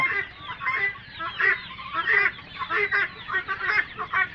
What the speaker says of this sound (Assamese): আৰু এইবিলাক হ'ল আমাৰ কৰকনাথ মুৰ্গী